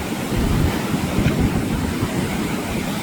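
Ocean waves crash and surge steadily on a beach in Phuket, a dense, roaring wash of surf with wind buffeting the microphone and no voices.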